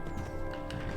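Horse hooves galloping in the Skyrim video game, a steady rapid clatter of hoofbeats close by, continuous over a low game soundscape with no talking.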